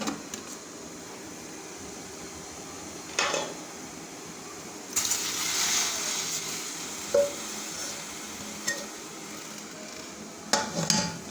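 Steel plates stacked in a home kitchen while making rava idli: a few sharp metallic clinks and clatters spaced apart over low background hiss, with one longer rattling scrape in the middle.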